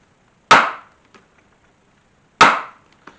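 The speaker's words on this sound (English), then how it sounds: "Come back with my round awl, and I do the same thing I did on the front side." Two sharp, close punches of a round awl driven through a leather western-style holster over a scrap piece of leather, each a loud crack followed by a faint tap, spaced about two seconds apart.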